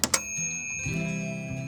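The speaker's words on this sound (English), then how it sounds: "let's ring the bell and take a tour of the inside" A vintage Fisher-Price Little People toy house doorbell gives two quick bright chimes, followed by a sustained tinny ringing tone that hangs on, close and fairly clear with no voices.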